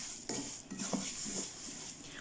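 A spoon scrapes and clinks against a pan while stirring semolina roasting in oil, a few soft knocks over a steady sizzling hiss, close and fairly quiet.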